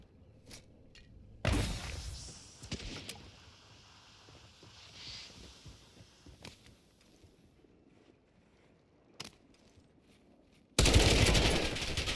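Sniper rifle shots in the Warzone battle royale game, a few sharp, loud isolated cracks spaced apart with quieter ambient rumble between, ending in a sustained loud burst.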